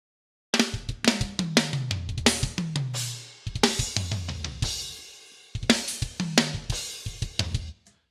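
Initial drum mix programmed in Logic Pro plays loud and close: punchy kicks, snares and hi-hats in a steady groove with deep pitched 808-style bass slides, dropping out briefly twice before the pattern resumes.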